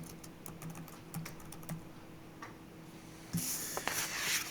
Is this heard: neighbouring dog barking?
no